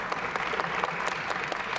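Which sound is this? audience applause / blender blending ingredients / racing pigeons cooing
audience applause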